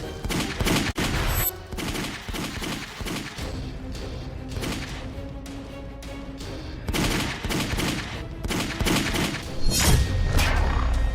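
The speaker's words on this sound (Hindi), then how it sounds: "20 सेकंड में 12 राउंड से ज्यादा फायरिंग हुई" Rapid bursts of gunfire from a daytime shooting at a car in Chandigarh's Sector 9 crack out in quick succession, dozens of sharp shots clustered in rattling volleys, loud and close, with a heavy thump near the end.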